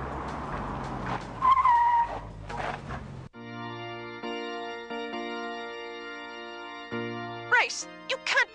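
A cartoon race car speeds off with a short burst of skidding tires, then a long sustained engine whine holds steady before another quick squeal, with cartoon voices heard briefly at the start.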